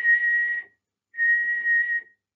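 Two sustained high-pitched whistles, close and clear, separated by a short pause; the second lasts slightly longer.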